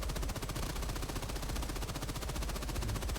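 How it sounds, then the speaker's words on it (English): Sustained automatic machine-gun fire in a video game, a dense, rapid, unbroken rattle of shots running loud and close for the full three seconds with no talking. "The machine gun, same thing."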